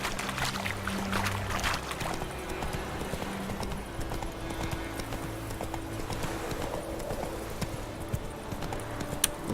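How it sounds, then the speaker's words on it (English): Horse hooves clip-clop steadily at a riding pace in The Witcher 3 video game, a continuous rhythmic trot over ambient game sound, with no talking. "Let's get back on the horse now."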